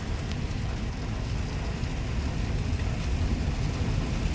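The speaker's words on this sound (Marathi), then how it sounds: "लय जोरात आला पाऊस" Heavy rain pours down in a dense, steady roar with a low rumbling undertone, continuous and fairly loud throughout with no voices.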